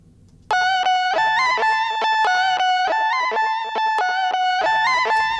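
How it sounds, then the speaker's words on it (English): Guitar played into an Organelle's guitar-to-synth setting, its pitch quantized into a bright synth-like tone with effects and fast delay, playing a steady melodic line of stepped notes after a quiet start. "there's a setting called guitar to synth, so you can plug a guitar in and it kind of quantizes the pitch"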